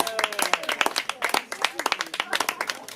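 Audience at a slam poetry evening in Vence claps loudly for an announced score, a dense run of sharp, close handclaps with overlapping voices.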